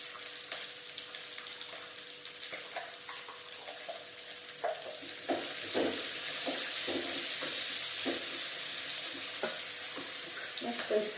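Onions with salt fry in a pan, giving a steady close sizzle broken by clinks and scrapes as they are stirred, with no voices.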